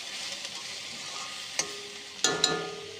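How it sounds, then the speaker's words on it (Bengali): Dried fish curry with radish, beans and potato cooking in a pan: a steady soft sizzle, broken by a few sharp metallic clinks of a utensil near the end. "আর এই যে এখানে শুটকির তরকারি বসছে।"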